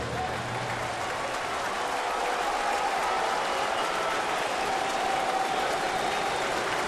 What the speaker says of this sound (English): the Mets fans who are here at Yankee Stadium should stand and applaud Fernando Nieve for his effort here today